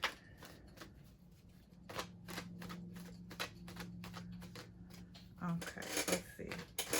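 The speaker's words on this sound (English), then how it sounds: "I think that's all the shuffles I can get in with this deck." A large tarot deck being shuffled at close range, with a run of quick papery riffles and card taps, ending in a louder flurry of card handling; a steady low hum sits underneath.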